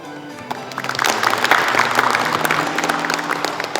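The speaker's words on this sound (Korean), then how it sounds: "한 분 한 분 소개해 드릴 때마다 큰 박수 부탁드립니다" Audience applause at a Gyeongbuk provincial preparation briefing for a national youth and disabled students' sports festival, a dense steady wash of many hands clapping at fairly close range, sustained for several seconds with a murmur of crowd beneath.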